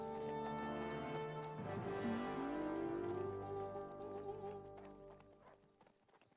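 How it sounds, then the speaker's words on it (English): A horse's hooves clip-clop at a steady walking rhythm in the medieval video game Kingdom Come: Deliverance II. A brief whinny and background music play over the hoofbeats, which fade toward the end. "Clippy cloppy clippy cloppy clippy cloppy clop clop."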